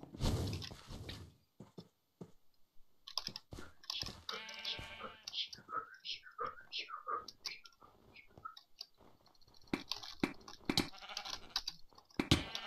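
Sheep bleat in the Sheep Quest video game, several short wavering calls scattered through busy game effects and breathy, quiet talk, with stretches of near silence between bursts.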